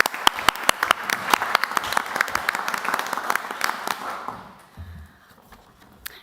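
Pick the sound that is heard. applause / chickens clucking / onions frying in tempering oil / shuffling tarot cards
applause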